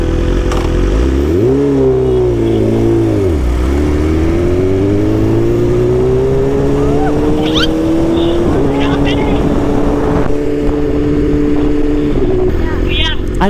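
BMW big bike used as a habal-habal motorcycle taxi, its engine revving loudly and close with pitch dipping then climbing steadily, with a shift step near the end.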